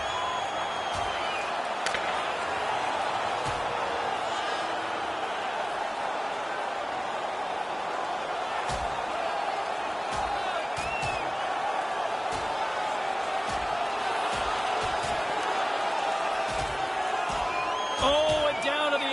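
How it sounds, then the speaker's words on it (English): An arena crowd in an NHL hockey video game roars steadily as two players drop their gloves to fight, a dense, continuous wash of cheering with occasional sharp knocks throughout. "Crowd on their feet as they drop the gloves."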